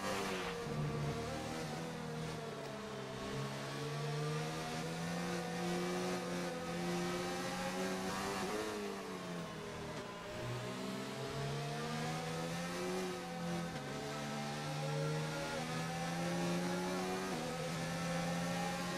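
An F3 race car engine in the F1 2019 video game, racing at Japan, drones steadily and fairly quietly, its pitch rising and falling with acceleration and gear changes.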